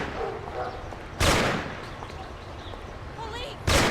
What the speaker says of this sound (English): Lord, it's shooting here.